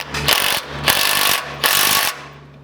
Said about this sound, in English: reach back in here and tighten up that hex bolt with your 17, securing that tie-in bracket in place